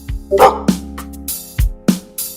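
A person imitates a dog, producing about five short, sharp barks and yips spaced irregularly over two seconds, loud and close with no other talk.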